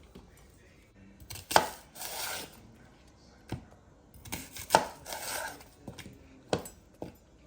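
A knife chops red onion on a cutting board in a few sharp, irregular clusters of close strokes, with quiet pauses and brief rubbing scrapes between them.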